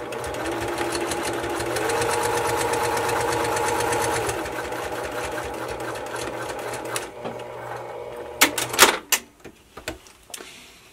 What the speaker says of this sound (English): you're going to sew from edge to edge at a 45-degree angle